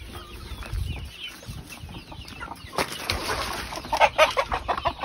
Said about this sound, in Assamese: সম্পূৰ্ণ লোকেল মুৰ্গী